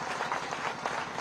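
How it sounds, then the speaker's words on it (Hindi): Crowd applause at a large public rally in Bina, Madhya Pradesh, welcoming a chief minister; dense, steady clapping from many hands, fairly faint and continuous, with no voices standing out. "जोरदार तालियों से स्वागत।"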